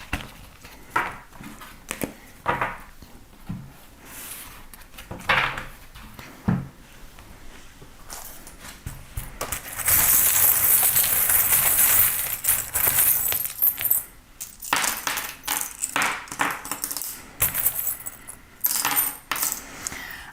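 Small metal charms are handled, rattled and dropped onto a surface for a divination reading, giving scattered close clinks and taps, then a dense burst of jingling rattle in the middle, with more sporadic clicks afterward.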